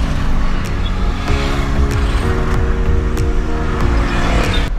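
A car driving through congested traffic in Abuja, Nigeria, running along the roadside; a loud, steady engine drone with gear-shift changes in pitch and passing vehicle noise throughout, no talk.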